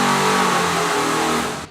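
A Ford 427 Windsor street cruiser engine making about 500 horsepower roars on a dyno, loud and sustained at high revs, then drops off sharply at the end.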